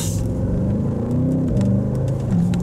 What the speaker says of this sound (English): let that V8 bi-turbo breathe